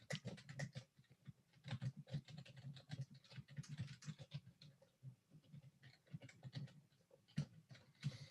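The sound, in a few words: typing on a computer keyboard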